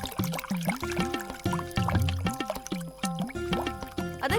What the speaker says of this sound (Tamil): நானும் கை கழுவ தான் வந்தேன்